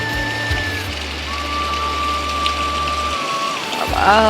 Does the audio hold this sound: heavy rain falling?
yes